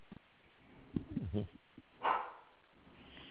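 Indoors, a pet dog called Miss Coco gives a few faint, scattered barks and whimpers at a distance, reacting to something outside the door, with low room noise between them.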